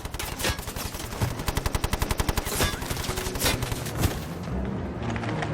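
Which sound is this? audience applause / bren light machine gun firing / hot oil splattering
bren light machine gun firing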